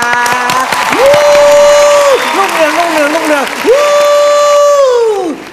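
Studio audience applause on a Thai celebrity talk show, a steady broadband wash lasting the whole moment, largely covered by a loud voice chanting a sustained, melodic phrase over it.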